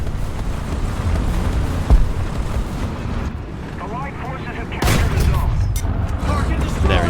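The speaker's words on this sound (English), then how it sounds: "I then get shot at by this BT-42 and decide to return fire" Tank cannon fire in War Thunder as a BT-42 is engaged, with loud booming shots near 2 and 5 seconds over a constant rumbling engine and wind-like battlefield noise, talk faintly present.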